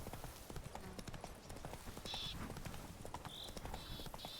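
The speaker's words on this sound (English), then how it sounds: "Whoa there, Roach" Horse hooves clip-clop steadily in a video game, close and rhythmic, with occasional higher tonal game sounds over the trotting.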